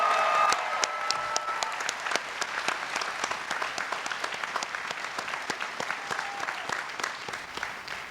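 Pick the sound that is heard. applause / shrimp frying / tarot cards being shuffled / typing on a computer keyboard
applause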